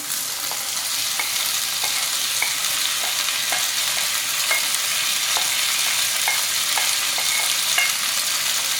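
Leftover pork stir-fries in sesame oil in a pan, a steady crackling sizzle punctuated by frequent small spatter pops and the scrape of stirring, with no voices.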